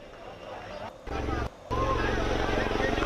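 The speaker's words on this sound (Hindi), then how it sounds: "लखनऊ के आसमान में भी हेलीकॉप्टर्स पुष्प वर्षा करते हुए दिख रहे हैं" Helicopters fly over Lucknow showering flower petals during a military salute to Covid workers, a steady rotor and engine roar with brief dips and swells, heard under talk.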